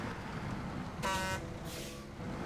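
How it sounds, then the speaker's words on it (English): A single truck horn honk in a snowy truck-driving game, one bright blaring blast about a third of a second long over a steady low engine rumble, with a fainter second toot just after. "I didn't mean to honk, I'm sorry."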